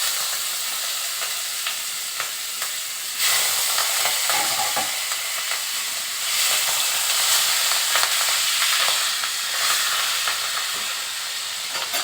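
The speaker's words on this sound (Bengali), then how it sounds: "প্রথমে চিংড়ি মাছটা আমি ভেজে নেব।" Prawns frying in a pan for a Bengali taro-and-prawn dish, a continuous bright sizzle with surges of hissing and occasional stirring scrapes, close and steady with no voices.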